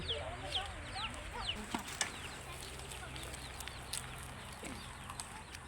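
Gamecock chickens and chicks cluck and chirp steadily in the background among outdoor farmyard noise, with a voice speaking faintly now and then.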